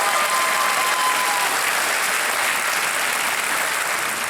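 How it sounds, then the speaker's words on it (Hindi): A studio audience on the KBC game show applauds steadily, a dense, even clapping that stays loud throughout and fades only slightly near the end. "ताली बज गई है आपके क्वालिफिकेशंस को लेकर के।"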